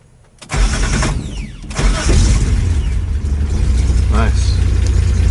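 A 1975 Datsun 280Z engine cranks briefly, catches and settles into a steady, close rumbling idle.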